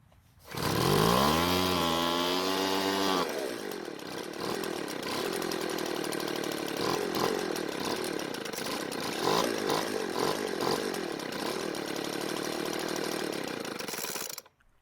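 A Craftsman gas leaf blower starts with a rising rev, then its small two-stroke engine runs loud and steady at high speed for about fourteen seconds before cutting off at the end.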